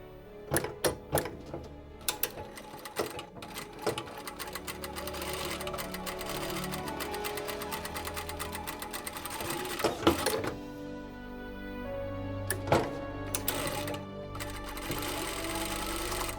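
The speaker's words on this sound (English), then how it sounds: "Top stitch along the seam to secure the pressed edges." A sewing machine topstitching along a seam of a linen wrap skirt, starting with several short bursts, then a long steady run of rapid stitching, a pause, and more runs, close and clear with no speech.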